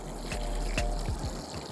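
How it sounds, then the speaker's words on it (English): Water trickling and pouring onto soil covering seed tape in a spring garden bed, a soft, close, uneven splashing with a few small splats. "once I have covered my seed tape with soil, I'm going to add water"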